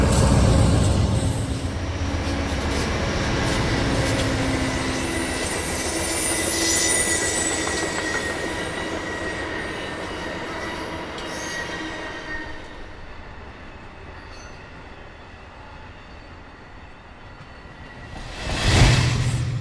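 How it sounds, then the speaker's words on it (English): Amtrak's northbound Crescent passenger train rolls into Washington Union Station with a steady rumble and wheel noise, high squeals along the rails, and a sharp loud screech near the end. "Amtrak's northbound Crescent from New Orleans, Louisiana will soon arrive in Union Station"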